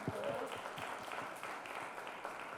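Audience applause fills a mayoral forum hall, a steady dense patter of clapping running throughout at moderate volume, with a few faint voices mixed underneath.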